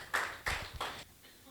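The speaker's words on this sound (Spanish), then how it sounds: "Un aplauso a Jesús" A church congregation gives a few short bursts of clapping during a sermon, three brief loud clusters that quickly fade, with a voice present.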